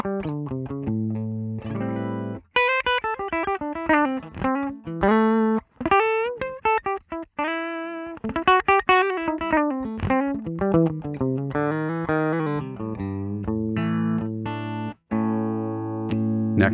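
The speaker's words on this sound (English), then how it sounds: "I am playing my Vigier GV Wood with P90 pickups in it." Vigier GV Wood electric guitar with P90 pickups, played through a Line 6 Helix amp and cab model with a microphone, runs fast melodic lines and chords, mildly driven, close and upfront, with no talking.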